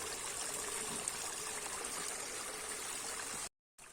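Water sputters unsteadily from a micro hydro hose pipe just after its valve is opened, a close, hissing, gurgling rush with irregular surges from trapped air. The flow cuts out briefly near the end, then resumes.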